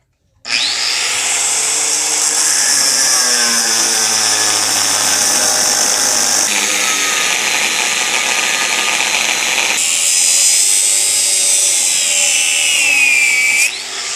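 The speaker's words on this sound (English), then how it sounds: "go at this with a 5-inch cutting wheel and cut either side of the U-joint itself" A 5-inch power cutting wheel grinds continuously through a metal U-joint on a 2004 Chevrolet Suburban 2500, a loud high-pitched whine that shifts pitch as the cut changes, with no voices.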